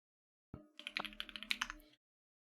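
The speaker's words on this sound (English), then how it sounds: "Probably gonna hear my keyboard clicking and clacking for a sec." A computer keyboard clicks and clacks in a quick burst of about a dozen close, light keystrokes lasting around a second and a half, with no talk.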